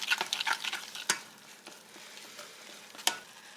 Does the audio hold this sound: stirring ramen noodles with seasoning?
yes